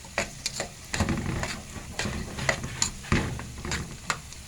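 Washed, soaked rice frying in heated oil, a steady close crackle broken by sharp stirring clatters of a utensil against the pot.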